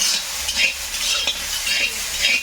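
Leafy greens frying and being stirred in a pan, with a steady close sizzle and repeated scraping stir strokes throughout.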